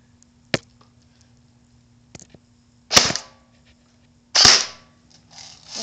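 An M4 airsoft rifle fires on a shooting test, sounding as about four sharp, close pops spaced irregularly, with brief rattling noise after the louder shots.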